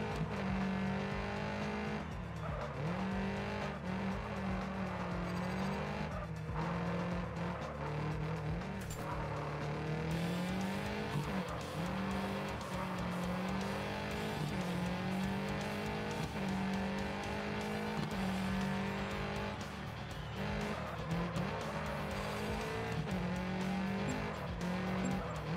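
A car downshifting in the Gravel racing video game, a steady, loud engine roar whose pitch climbs and drops repeatedly through gear changes, with occasional tire squeal and no talking.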